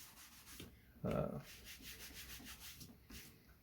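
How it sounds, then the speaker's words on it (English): A thumb rubbing scratches out of a glued leather project, heard as one short, louder scuffing burst of friction against a faint, steady background. "You can rub scratches out of it with your thumb."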